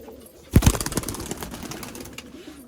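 Punjabi Malwai pigeons at a sale in Dhamua, South 24 Parganas, make a sudden burst of wing flaps and scuffling near the mic that trails off into faint rustling and bird sounds.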